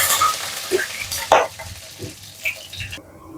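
Mustard seeds and curry leaves sizzle in hot tempering oil with a crackly, uneven hiss and a few sharp pops and spits, short and close up, fading abruptly at the end.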